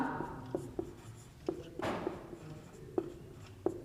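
Chalk or marker writing on a board during a Class 10 maths lesson on circle areas, a run of short scratchy strokes and taps with a longer sweep in the middle, fairly close and alone without talk.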